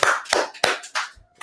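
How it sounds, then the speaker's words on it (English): A class claps together in a law class, about four loud, sharp unison claps spaced roughly a third of a second apart, close and dry with short silences between them. "y'all go ahead and clap it up"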